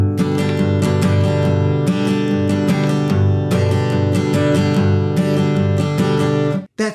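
An acoustic guitar strums a down-down-up pattern with added techniques, giving full ringing chords with percussive accents in a steady groove. The playing is close and loud and stops abruptly at the end.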